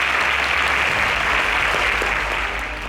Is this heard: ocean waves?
no